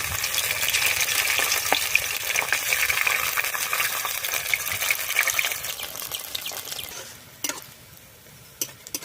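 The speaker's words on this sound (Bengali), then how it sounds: "তেল গরম হয়ে গেছে একটা একটা করে ছেড়ে দেব" Steady, busy sizzling of dough frying in hot oil, loud and continuous, easing off toward the end with a few sharp crackles.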